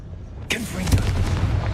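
A Confringo blasting spell from Hogwarts Legacy bursts with a sudden loud crack, then rolls into a rumbling explosion that keeps booming to the end.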